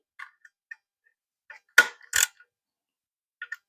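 A ratchet tightens the intake bolts on an Audi 3.2L engine, giving sparse quiet clicks, two louder metallic rasps in the middle and a few more clicks near the end, close up with no talk.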